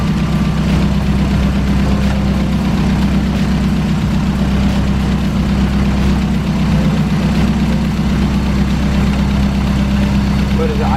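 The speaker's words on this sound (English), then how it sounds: "But is it idling good?" A car engine idles steadily and loudly up close, a constant low rumble with slight vibration and no pauses.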